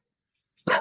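A fearful, reactive dog gives a single sharp bark after near silence. The bark is brief, close and clear, with no talking around it.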